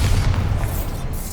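A Bombarda blast spell is cast in Hogwarts Legacy, giving a loud, sustained low boom that rumbles steadily through the whole moment without a sharp onset.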